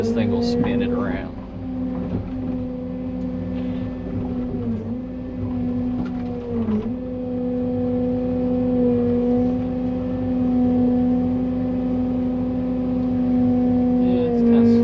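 A CAT 310 mini excavator working close by as it spins a tree root: a loud, steady diesel drone with shifting pitch as the load changes, and someone talking over it.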